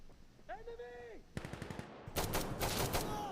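An MG3 machine gun fires in the video game Insurgency: Sandstorm, a short voiced sound first, then rapid bursts of sharp, loud automatic shots, the second burst denser and longer.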